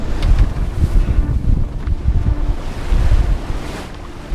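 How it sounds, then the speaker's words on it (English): Big ocean-going swells roll and break around a small boat crossing the North Sea, a heavy churning rumble of water with gusting wind buffeting the microphone in uneven surges and no voices. "I can instantly see that the swells are much bigger here, like huge ocean-going swells coming in here"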